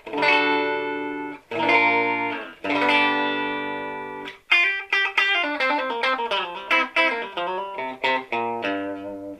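A PRS SE50 amplifier with treble near maximum clipping an electric guitar: sustained distorted chords, then a quicker run of clipped, gritty single notes, loud and close with no voices.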